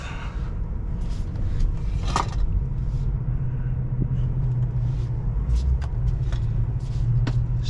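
A Tesla Model 3 electric car pulls away from rest, giving a low, steady road rumble and soft motor hum heard from inside the cabin, with a few faint clicks and no talking.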